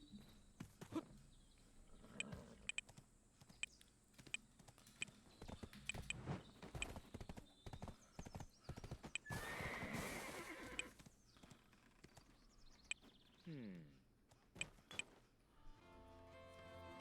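A horse in the Black Desert video game clip-clops along with hooves at a steady walk, then gives a clear whinny near the middle, mixed with faint mechanical clicks and ambient game sounds.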